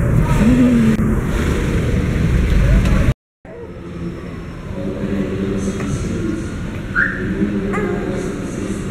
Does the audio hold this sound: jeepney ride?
yes